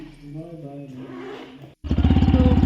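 A motorcycle pulls away on a trip home with a close, loud, rhythmic engine chug that starts abruptly after a moment of talk and low background rumble.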